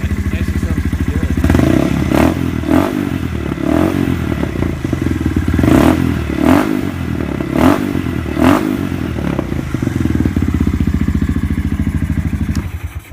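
Honda Grom MSX125 motorcycle with a full stainless steel exhaust and the silencer removed, idling loudly with a steady low putter, then blipped in repeated short revs with a few clatters and thumps.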